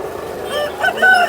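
A top-quality rooster over four kilograms crows at the Vijayawada rooster market, one short loud close call rising at the end, with no voices over it.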